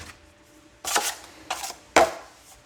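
A 4-inch knife scrapes joint compound onto cornerbead in three distinct close strokes, each a brief rasping swipe separated by quiet pauses.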